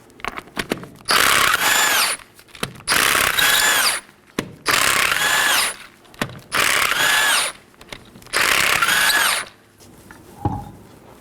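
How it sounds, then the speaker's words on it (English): Five loud, close bursts of a power impact tool, each lasting about a second and a half with short pauses between, removing the five 19mm lug nuts from the left front wheel of a 2018-2024 Chevrolet Equinox. "Let's go and remove our left front wheel. There's 5 19mm lug nuts."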